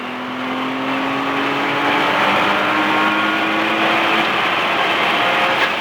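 A race car engine drones loud and close as it accelerates out of a turn, its pitch climbing steadily under wide-open throttle and holding a sustained roar throughout, with no voices.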